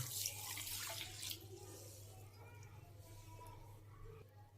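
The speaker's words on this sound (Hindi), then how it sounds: "उसके बाद इसमें 2 कप पानी जाएगा।" Water pours into a bowl in a steady splashing stream at the start, easing off into quieter trickles and faint kitchen noises.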